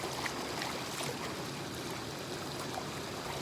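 River water flowing steadily while a dog is bathed in the river, a continuous close rushing wash with no pauses and no talking.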